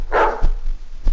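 A dog gives a single short bark up close, followed by a fainter second yelp a moment later.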